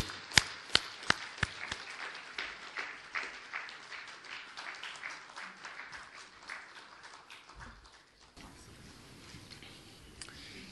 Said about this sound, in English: So now, with the big clapping, welcome and listen this lecture.